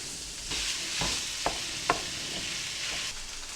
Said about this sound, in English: Then I'm just going to break this up and I'm going to brown it all up